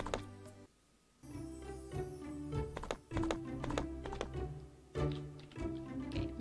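Horse hooves pounding along in the video game World's Dawn, a steady galloping patter with dull thunks, heard up close over game music and ambient sound.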